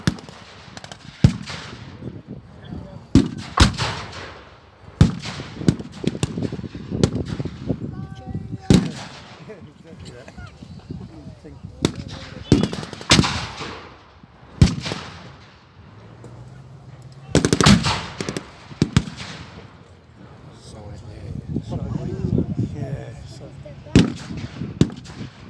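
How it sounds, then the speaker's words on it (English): A WW2 battle reenactment with an Allied 25-pounder artillery gun firing, heard as repeated sharp booms spread across the scene amid scattered gunfire and rumbling, with some indistinct voices in the background. "An Allied 25-pounder has been brought into play"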